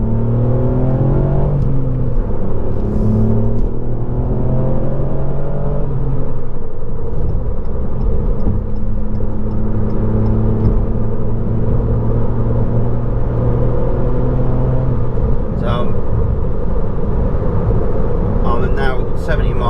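A Ford Fiesta MK8 ST engine drones steadily at about 70 mph in sixth gear, sports mode, a low exhaust rumble with slowly shifting tones filling the whole stretch.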